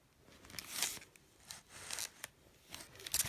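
A Big Shot machine die-cuts and embosses paper in a series of faint crisp swishing, rasping passes, each a second or so long, quiet and close with no talking.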